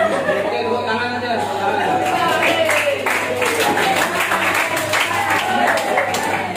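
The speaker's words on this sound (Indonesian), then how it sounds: "Oke, tepuk tangan aja." Students in an anti-corruption integrity classroom session clap their hands together in a steady burst of applause, mixed with chatter and light laughter from the room.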